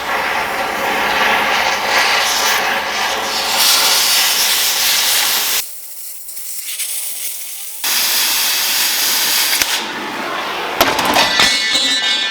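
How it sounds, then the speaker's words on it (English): A cutting torch slices through the upper A-arms of a school bus with a loud, steady roaring hiss close by, broken by a brief pause before the harsh cutting noise resumes; no talking. "I think I'm going to torch the top two A-arms"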